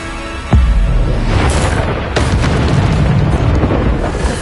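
Bombarda spell blasting in the Hogwarts Legacy video game, a sudden loud booming explosion that rolls into a sustained rumbling roar, with a second sharp blast partway through and continuous heavy noise.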